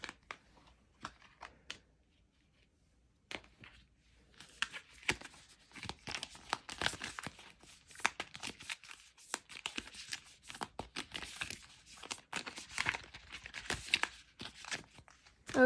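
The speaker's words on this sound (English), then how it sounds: "let's go ahead and pull some cards from the Oracle deck over here" Oracle deck cards are shuffled and pulled by hand, giving close, soft crinkly rustles and quick flicks in irregular bursts, sparse at first and then busier and continuous.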